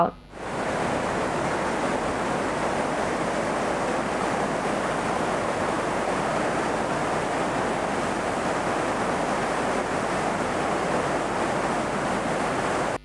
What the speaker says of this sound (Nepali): यता कोसीमा पानीको बहाव बढेपछि